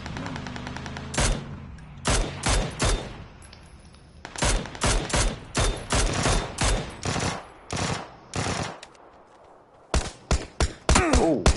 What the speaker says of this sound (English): I don't know what the fuck they're shooting at